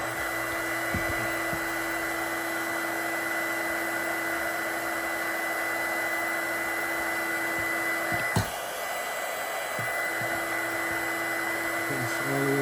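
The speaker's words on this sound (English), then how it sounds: "this is my heat shrinking tool" A heat gun for heat-shrinking car wiring runs continuously with a steady airy blowing whir, close and even throughout, with a couple of brief clicks or handling knocks.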